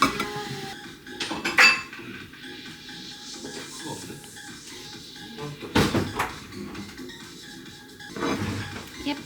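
Clinking of a knife against a plate with a few sharper scrapes and taps, under faint background hiss, as a birthday cake is cut in half on a dish.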